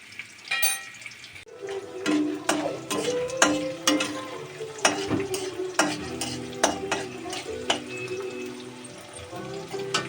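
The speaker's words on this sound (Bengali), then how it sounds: "আর আমি পেঁয়াজটা ভেজে নিলাম।" Onions frying in a pan, a continuous sizzle broken by repeated clattering stirs of a spoon scraping the pan, close by and moderately loud.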